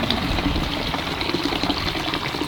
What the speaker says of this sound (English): Put in the hot water.